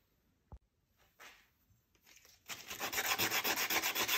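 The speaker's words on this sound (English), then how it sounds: "So this is 300 grit sandpaper. It's pretty coarse if we're talking about sanding down aluminum." After a few faint scrapes and a click, steady rhythmic sanding starts, quick back-and-forth rasping strokes of 300 grit sandpaper on an aluminum chainsaw piston, close up and fairly loud.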